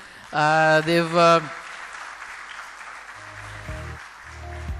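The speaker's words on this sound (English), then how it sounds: "So I'd like all of you to please give a big round of applause to our panel." Conference audience in Lahore applauding a panel at a CFO event: a loud voice calls out briefly, then a moderate, steady crowd applause follows at lower volume.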